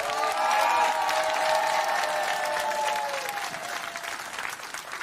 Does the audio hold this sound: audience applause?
yes